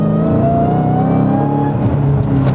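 A Dodge Hellcat accelerating hard from inside the car, its engine note rising in a loud, continuous rev with no talking over it.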